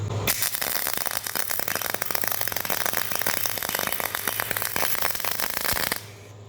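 Continuous crackling, buzzing arc from a small, inexpensive MIG welder running near spray transfer, with rapid popping and spatter, loud and close, cutting off abruptly near the end.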